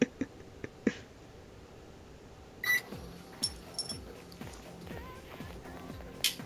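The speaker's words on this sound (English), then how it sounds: "You gotta love that microwave sound." A microwave oven in the video game Persona 3 runs with a low steady hum, punctuated by faint ticks and a few short electronic chimes, fairly quiet throughout.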